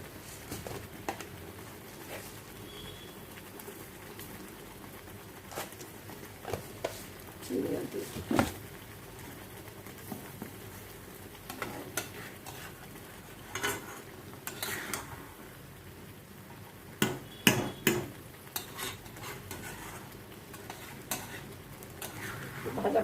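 Spice masala for prawn malaikari fries quietly in oil while a spoon stirs it, giving soft scraping and occasional sharper clinks against the pan under intermittent talking.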